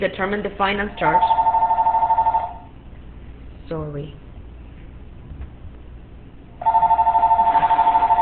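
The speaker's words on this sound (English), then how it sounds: "Sorry about the home phone ringing." A home telephone rings with a steady electronic warble in two bursts, one early and one near the end, loud and close, while someone speaks in between.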